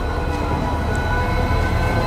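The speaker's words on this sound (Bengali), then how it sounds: "এই কিন্তু আমাদের ট্রেনে ব্যাকপুশ হচ্ছে" A steady, loud rolling rumble fills the inside of the Chakradharpur Express as the train is pushed backwards, with continuous low wheel and carriage noise and no talk.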